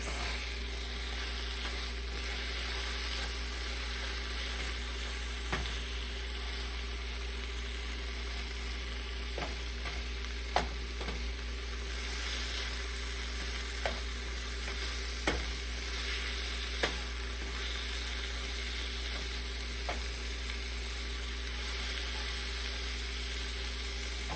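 Seasoned jackfruit taco filling is stirred in a frying pan, a steady soft sizzle broken by occasional light scrapes and taps of the spoon, close and fairly quiet with no talking.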